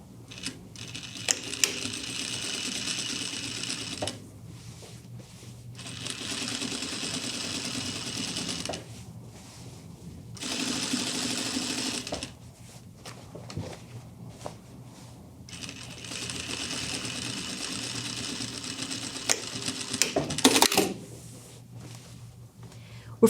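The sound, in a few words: sewing machine stitching a second line on jeans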